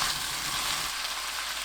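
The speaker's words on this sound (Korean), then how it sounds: "다 볶아지면 올리고당 반 스푼, 진간장 1스푼 넣고 볶습니다" Thinly sliced pork belly and eggplant stir-fry in a pan with oligosaccharide syrup and soy sauce, giving a steady, close, bright sizzle with no talking.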